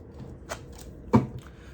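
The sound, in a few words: shuffling tarot cards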